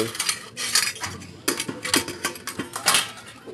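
Steel plates and spoons clatter and clink in quick, irregular bursts as food is served at home, close and bright, with sharp metallic knocks between the bursts.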